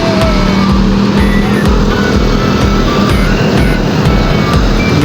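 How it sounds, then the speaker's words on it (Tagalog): Loud, constant traffic on Roxas Boulevard in Manila, with many cars and motorcycles rushing past nearby in an unbroken roar and with repeated pass-by swells. "Dami sasakyan."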